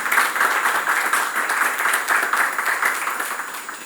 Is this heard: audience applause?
yes